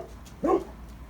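A dog gives a single short bark or yip, close by, against quiet room noise during a motorcycle repair session on a 2018 Beta Track.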